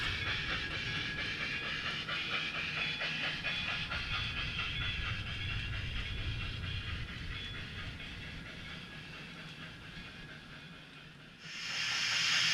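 An HO scale model freight train rolls steadily on a layout with a hissing, rhythmic clatter, then a brighter burst of noise rises near the end. No one speaks.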